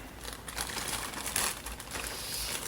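Plastic and cardboard packaging of a Mattel WWE Shawn Michaels action figure crinkles and crackles steadily as it is ripped open, fairly close and continuous with a few sharper tearing bursts.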